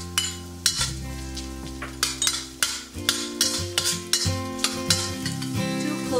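Red onion chunks and red chili strips stir-fried in a wok, a continuous sizzle punctuated by repeated sharp metallic scrapes and clinks of a spatula at a brisk, uneven rhythm, close and fairly loud, no talking.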